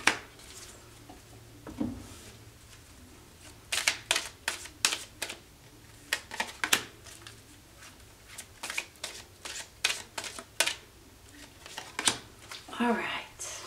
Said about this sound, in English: It does take me a minute sometimes to get all these cards